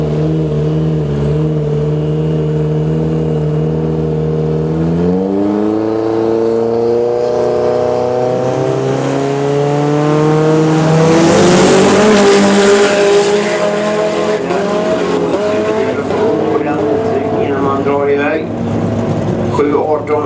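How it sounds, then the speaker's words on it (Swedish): A Chevrolet Vega race car in a heavy-class drag race roars close and loud through rising gear runs, the engine note climbing, dropping at each shift and climbing again as it accelerates hard, with a commentator talking over it. "Och Fredrik Nyman i vänster fåret med sin Vega."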